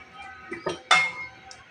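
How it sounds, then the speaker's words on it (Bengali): Metal cookware clinks as a lid is set onto a pot of radish and small fried puti fish: a couple of soft knocks followed by one sharper, louder clank, heard close and alone. "এখন আমি ঢাকনা দিয়ে দেবো"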